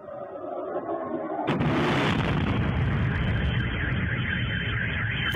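A Kh-101 cruise missile explodes in the air over Saratov region: a deep, powerful blast erupts suddenly after a low rumbling background, followed by a sustained loud roar that lingers without any talking.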